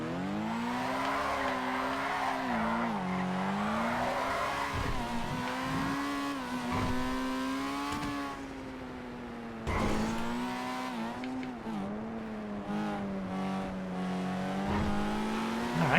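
A car drifting in GTA FiveM, its engine revving high and steady while the tires squeal in long sustained sweeps, loud and close, with a brief dip midway before the revving and squealing resume.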